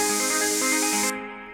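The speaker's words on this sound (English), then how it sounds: "what we want to do is get that whoosh type of effect" A synthesized white-noise whoosh shaped by a bandpass filter set around 12,000 Hz, a bright sustained hiss for just over a second that cuts off abruptly, leaving a fainter tail, with no talking.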